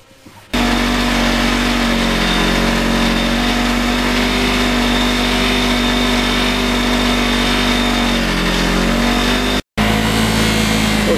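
A buffing wheel polishes a motorcycle muffler during an FZR restoration. The motor whirs at a loud, steady pitch, with one brief dropout near the end.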